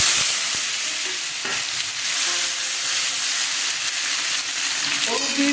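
Potatoes fry in mustard oil in a pan, giving a steady, close hiss and crackle of sizzling with faint stirring noises and a few light knocks.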